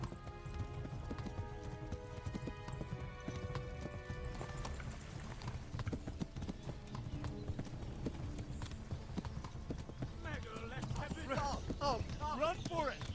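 Horse hooves clip-clopping at a gallop in the medieval video game Kingdom Come: Deliverance, with rhythmic close hoofbeats, occasional whinnies near the end, and voices talking over them.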